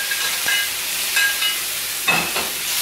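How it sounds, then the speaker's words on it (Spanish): Beef frying in a little hot oil for Mexican bistec ranchero gives a steady, close sizzling hiss, with a few faint clicks and bursts rising over it. "Vas a ponerle su carnita de res"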